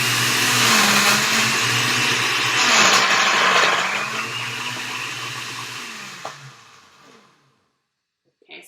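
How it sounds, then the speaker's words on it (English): A blender whirs steadily through a blueberry smoothie, its loud motor drone holding for several seconds, then winding down and stopping with a brief clunk near the end. "let's blend this puppy up"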